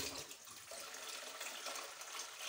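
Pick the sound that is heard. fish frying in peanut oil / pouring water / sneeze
pouring water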